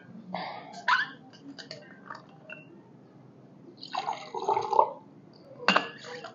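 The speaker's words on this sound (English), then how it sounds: "my water, which I'm going to pour more of right now" Water poured into a cup in bursts of splashing, trickling pours with pauses between, close and moderately loud, with small clinks of the cup.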